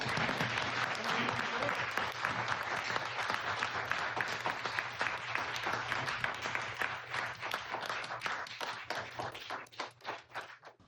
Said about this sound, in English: Let's give another round of applause.